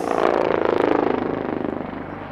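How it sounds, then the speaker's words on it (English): A helicopter performing aerobatic maneuvers at the Aero India 2025 air show passes close and loud, its rapid, rhythmic rotor chop pulsing steadily and then fading slightly. "These maneuvers are the hallmark of a versatile helicopter, which are made possible by its unique design."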